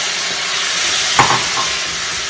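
Roughly chopped tomatoes, skins and seeds left in, landing in a hot pan with a burst of steady sizzling and a brief stirring scrape, the frying hiss continuing throughout at close range.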